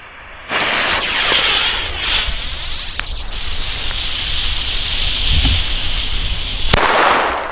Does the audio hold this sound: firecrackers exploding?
yes